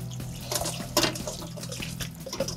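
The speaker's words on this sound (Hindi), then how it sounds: "यहाँ मैं ठंडा पानी ऐड कर रही हूँ" Cold fridge water is poured from a tap over drained, strained spaghetti in a kitchen, a splashing, gurgling stream with a few louder spatters, heard up close without talk.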